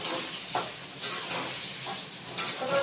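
Pointed gourd frying in a pan for a vegetarian curd dish, a continuous close sizzle and hiss with a few brief stirring scrapes and bursts, no talking.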